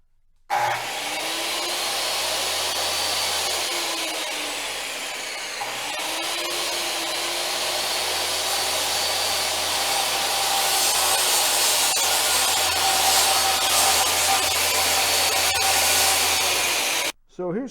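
A power tool cutting a plastic panel screwed and clamped to wood: a continuous high, loud buzzing whine running for about sixteen seconds with a brief dip midway, then stopping abruptly.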